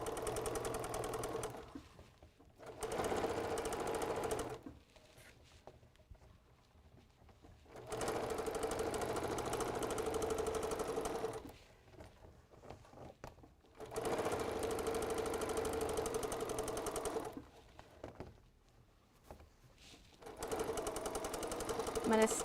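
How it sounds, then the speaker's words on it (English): Sewing machine back stitching at a small stitch length while assembling a Kimberbell storybook pocket quilting project: several loud, steady bursts of rapid mechanical whirring with short quiet pauses between runs. "Now I'm going to back stitch."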